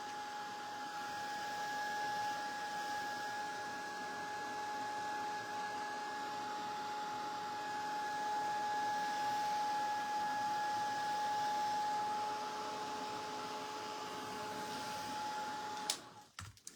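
A heat gun blows steadily while setting paint on a tea kettle, a constant whining hum with a thin tonal whistle held for about sixteen seconds before cutting off with a clatter.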